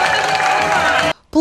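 Crowd cheering and clapping at a town fountain opening on a city square, a loud, dense burst that cuts off abruptly near the end.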